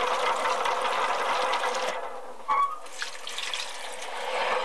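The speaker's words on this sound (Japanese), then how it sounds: "はい、梅洗っていきます。 3回洗えばいいと思います。" Ume plums are washed under a running kitchen tap, with a steady, close splash of flowing water and a brief clink of fruit against the sink midway.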